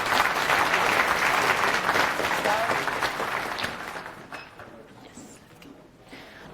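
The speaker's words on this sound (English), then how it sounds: "Please give an applause." Audience at a conference talk applauding: dense, sustained clapping that fills the room and then slowly thins and fades out, with no one speaking over it.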